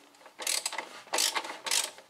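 A ratchet loosens the alternator retaining bolt on a 1.2-litre Fiat/Ford engine, giving three short bursts of quick, close clicking separated by brief pauses, with no talking.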